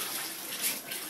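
Bath water running and gurgling as a tub drains, a soft continuous watery rush heard close and fairly quiet.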